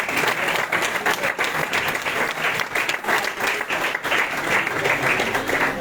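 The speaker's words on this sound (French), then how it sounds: "Et des applaudissements pour ce beau geste." An audience at the TID 2024 draw applauds a jersey being offered, a dense, steady wash of many hands clapping that lasts throughout at a fairly loud level, with no voices over it.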